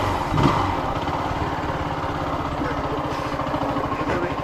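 A Zontes GK Scrambler X motorcycle engine running nearby, a steady pulsing idle rumble with no talk over it.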